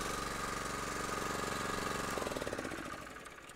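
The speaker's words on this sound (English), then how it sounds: "This machine has a pumping system which is powered by a gasoline engine." Honda 4.8 hp gasoline engine with electric start driving the hydraulic pump on a 2002 Leeboy L150 tack distributor trailer, steady mid-pitched running chug that eases down toward the end, fairly faint and without talk.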